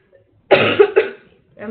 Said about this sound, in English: I don't mean to be coughing everywhere, but I just cannot kick this cold.